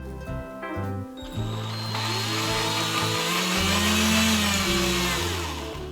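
A small drill's motor whines steadily as it drills with a tiny bit, its pitch rising and shifting as it runs continuously, with a brief stutter near the start.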